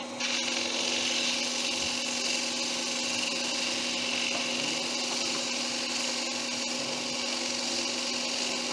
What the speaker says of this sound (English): I want to sand two sides of that flat.